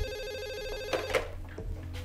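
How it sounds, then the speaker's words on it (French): A telephone rings with a repeating electronic ringtone, steady and fairly close, with a few brief clicks and knocks near the end and no talk over it. "C'est la tante Lucie au téléphone."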